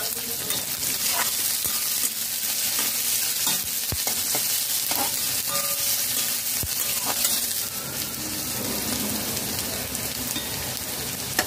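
Chopped onion frying with spices in a pan over a low-to-medium flame, a loud, continuous crackling sizzle broken by clinks and scrapes of stirring.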